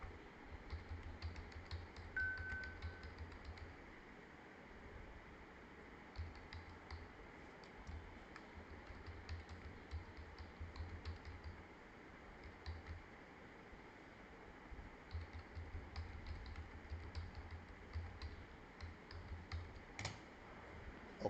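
Quiet, continuous typing on a computer keyboard while entering data, with a steady run of soft key clicks and occasional sharper taps over faint background hiss.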